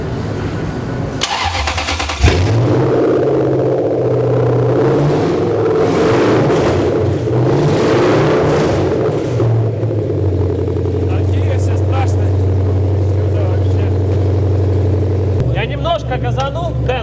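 A UAZ off-road vehicle with a 300 hp engine starts and revs loudly up close, sustained roaring and shifting engine pitch, with people talking over it.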